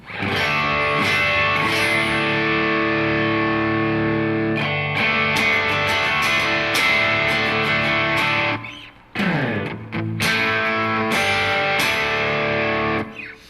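Electric guitar through a Bad Monkey overdrive pedal, thick and saturated, chords ringing loudly with a few brief breaks near the end; no voices.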